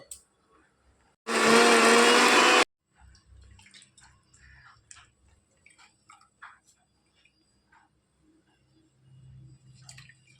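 A mixer grinder whirs loudly through rice and water, making a single dense burst of just over a second, then stops and leaves a quiet room with faint small clatters and handling sounds.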